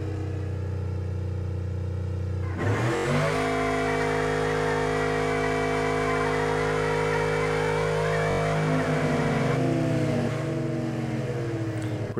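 A farm truck's engine races in the Street Outlaws drag-racing game, a loud sustained roar that kicks in after a quiet idle and holds steady revving tones, shifting pitch near the end.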